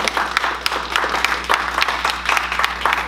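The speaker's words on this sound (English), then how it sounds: "Can we get another round of applause for them" Steady applause from a crowd, many hands clapping continuously at moderate volume for a few seconds, no one speaking.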